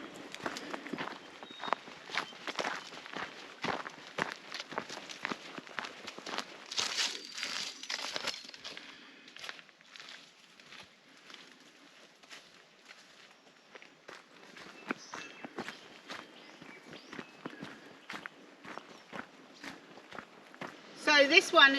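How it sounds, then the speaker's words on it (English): Footsteps crunch along an old logging railway formation on a bush walking track, a steady walking rhythm of close crackling steps on leaf litter and gravel, with someone talking over parts of it. "Back walking on some old railway formation here, old logging industry track."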